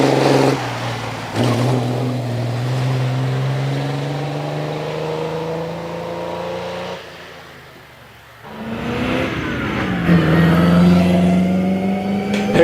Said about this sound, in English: Here comes this lovely Lancia of Alex Herndon.